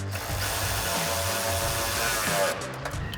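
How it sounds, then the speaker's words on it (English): Ratchet socket and wrench tightening 10 mm bolts through the pinch weld of a Jeep Wrangler JL while fitting drop steps, giving a steady close clicking and grinding mechanical texture throughout with no talk. "we're going to grab our 10 mil socket and a 10 mil wrench. I'm going to tighten down both of these."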